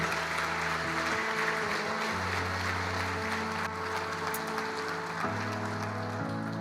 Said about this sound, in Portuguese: irmão, aplauda o nome do Senhor